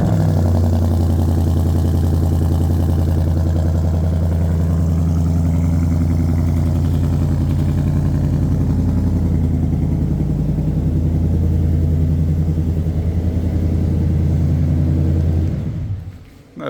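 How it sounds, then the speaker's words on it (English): A 2022 Ford Mustang GT engine starts by remote and runs, a loud steady deep rumble holding throughout before cutting off abruptly at the end. "let's go ahead and hear this vehicle start up"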